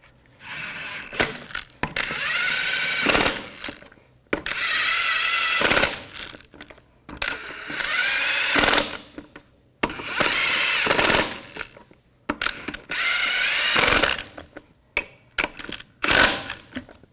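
A power tool runs wheel lug nuts onto a 1999-2006 Chevrolet Silverado 1500: five loud, close bursts of whirring, rattling impact, each a couple of seconds long, with short pauses between.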